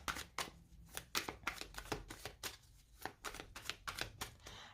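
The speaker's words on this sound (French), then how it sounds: "je mélange mon deuxième tarot" A tarot deck being shuffled by hand, a steady run of crisp, close riffling snaps in quick irregular rhythm, with no talking.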